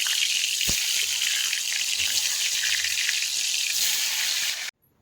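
Potato pieces fry in hot refined white cooking oil, a steady bright sizzle with a small pop near the start, close and unbroken until it stops abruptly.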